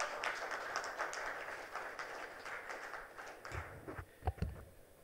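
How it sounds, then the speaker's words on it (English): An audience at a lucky draw event claps steadily, a rapid spread of many hands that thins toward the end with a few louder, closer claps. "Guys, please clap. Come on."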